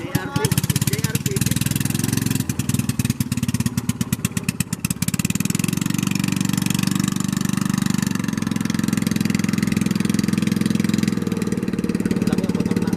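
A JRP motorcycle engine idles steadily with a low, continuous rumble and a brief uneven throttle flutter early on, close and loud, with people talking over it.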